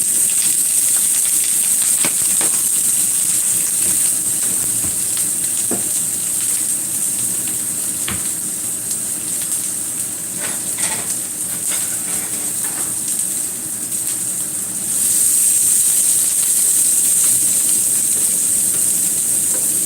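Half a red onion sizzling in butter in a pan, a steady close hiss with scattered pops and crackles throughout, growing slightly louder near the end.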